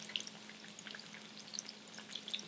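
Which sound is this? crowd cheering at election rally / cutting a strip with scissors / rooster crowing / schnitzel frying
schnitzel frying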